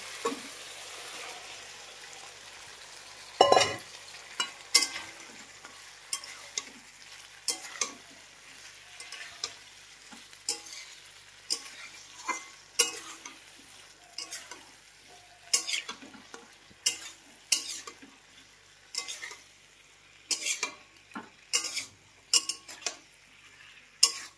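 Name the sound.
spice paste being sautéed and stirred in a pan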